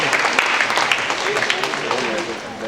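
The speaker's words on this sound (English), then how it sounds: "please give them a big round of applause for all participants" An audience at a morning awards program applauds the participants, dense clapping with some voices mixed in, steady and fairly loud throughout.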